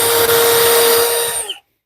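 A power drill drives a screw into a wooden workbench stretcher during a workbench build. It makes a loud, close, steady high whine for about a second and a half, then cuts off sharply.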